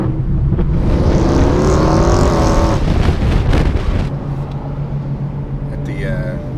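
A 2011 Ford Mustang with a 5-liter engine cruises with a steady, loud engine drone throughout, and people talk over it inside the car.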